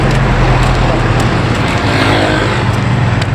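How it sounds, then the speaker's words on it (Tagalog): Dense traffic on a busy road, a steady loud roar of engines and tyres filling the whole clip without a break. "Dami sasakyan."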